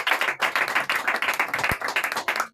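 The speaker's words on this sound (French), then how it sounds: "Acclamons encore Jésus-Christ de Nazareth." A church congregation applauds together at a Sunday service, steady dense clapping that stays loud and close for a couple of seconds.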